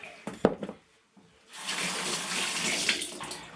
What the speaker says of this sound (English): Just going to rinse my hand